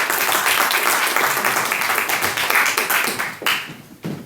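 A meeting audience at a Toastmasters club gives a burst of dense hand clapping that runs loud and steady, then thins out and stops in the last second.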